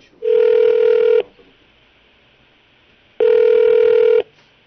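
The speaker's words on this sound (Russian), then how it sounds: "Двери закрыты, никто на звонки не отвечает." Unanswered call to a Russian phone line: a steady ringback tone sounds as two long, even beeps about three seconds apart, loud and clear with no voices.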